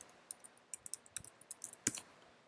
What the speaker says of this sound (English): I type in an address